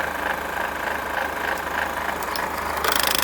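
The mechanism of a Noris Norisound 110D projector spins up, a close, steady mechanical whirr and rattle with a rhythmic pulsing that grows slightly louder at the end.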